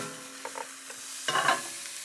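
Shallots sizzle softly in a frying pan with a steady low hiss, broken by a few scraping stirs and a louder burst of sizzling as they are moved around, close and fairly quiet with no talk.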